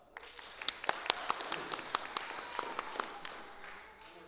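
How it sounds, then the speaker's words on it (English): A modest improv theater crowd claps for a bit about Lori's mozzarella, a light but steady patter of hands lasting a few seconds before tapering off. "And a round of applause for Lori's mozzarella."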